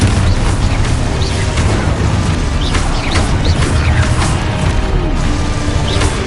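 Confringo fire spell explosions in Hogwarts Legacy gameplay, loud dense blasts and crackling bursts layered over a continuous roar of combat effects, with no speech.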